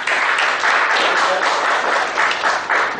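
An audience applauds a speaker at a professional seminar, a steady, dense wash of clapping that stays loud and continuous throughout.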